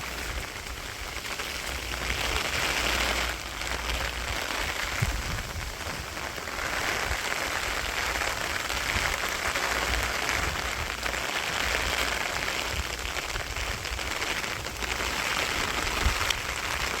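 Rain falls steadily on a village on a rainy day, a dense even hiss of drops with brief louder patters, no voices.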